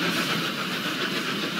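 A train runs along rails at full speed in the Roblox game Steam Age, a loud, continuous rushing rumble with a faint rhythmic clatter and no voices.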